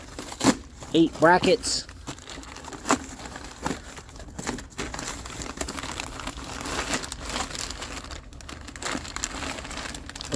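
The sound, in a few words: cutting open a cardboard parts box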